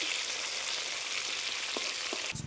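Pomfret fish frying in hot oil in a village kitchen, a steady dense sizzle throughout with a couple of soft knocks near the end, no voices.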